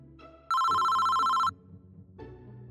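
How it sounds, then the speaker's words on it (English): A telephone rings with a loud, sustained electronic tone for about a second, alone with no talk over it. "That's when my phone rang."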